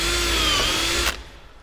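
A close power drill runs loudly as it bores through a wooden nightstand frame piece, then cuts off, leaving a quiet room.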